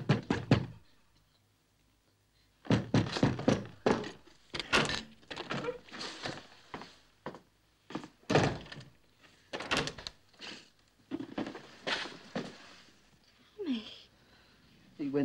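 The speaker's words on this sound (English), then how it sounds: "Open the door, Tommy!" Heavy thuds of a door being pounded in a tense 1960 crime-thriller scene, a few sharp knocks at the start, then repeated impacts mixed in with urgent shouting voices.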